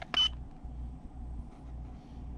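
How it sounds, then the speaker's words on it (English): A tire pressure monitoring system on an RV or motorhome gives one short, sharp electronic beep right after its set button is pressed, followed by quiet low background hum. "At least it quit beeping."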